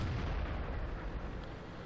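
Artillery fire and explosions in the World of Tanks video game, heard as a continuous low, rumbling blast wash that stays loud and dense throughout, with no talking.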